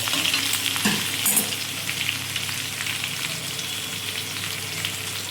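Unripe jackfruit sizzles steadily in a hot pan, a dense crackling hiss with a few louder pops at the start.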